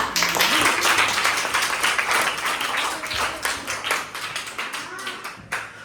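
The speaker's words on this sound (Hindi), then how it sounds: "तालियां।" Schoolchildren in a classroom clap their hands in applause, a dense, fast, fairly close patter of many small hands that runs steadily throughout and thins slightly toward the end.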